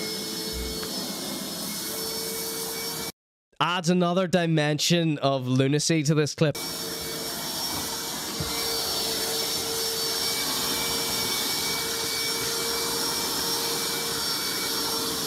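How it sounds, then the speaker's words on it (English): A water suction pump hums and hisses steadily and continuously, close and fairly loud, cut briefly by a burst of talk over a shorter gap before the drone resumes alone. "The water vacuuming suction pump."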